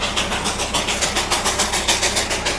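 A Darjeeling toy train engine runs near Ghum, India's highest railway station, giving off a steady, rhythmic chugging pulse that repeats evenly throughout, with no voices over it.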